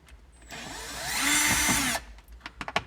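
A power drill whirs on a Land Cruiser, spinning up into a steady high-pitched run for about a second and a half while backing out a panel screw, then stopping, followed by a few light clicks and taps.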